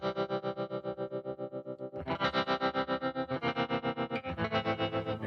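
A guitar plays chords through a Digitech TR-7 stereo modulation pedal in mono, giving a pulsing, swirling effect, each strum throbbing in a steady rhythm, with a louder, brighter section partway through.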